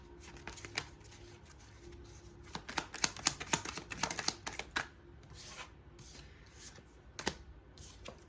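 Tarot cards are shuffled and drawn close up, giving quiet bursts of riffling and flicking with sharp card snaps and slides, dense in the middle and sparser toward the end, with no voices.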